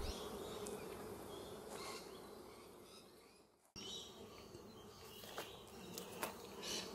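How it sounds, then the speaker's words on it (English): Honey bees in a nuc hive make a continuous close buzzing hum that carries on steadily, with a brief dropout midway and no voices. "look at the amount of bees that's in this nuc"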